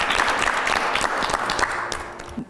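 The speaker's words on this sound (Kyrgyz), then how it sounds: "Кол чабар болсун." A studio audience at a Kyrgyz TV show claps in a dense, lively burst that slowly thins out toward the end.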